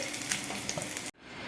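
Potatoes and eggs fry in hot oil over high heat with a loud, dense sizzle that crackles steadily, then cuts out abruptly and returns at a softer level.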